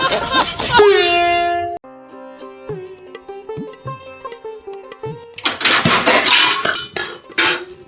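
Dishes, plates and steel utensils clatter and clink while food is being served at home, with sharp ringing knocks in bursts and a busy jumble of clanks near the end, with some voice-like sounds at the start.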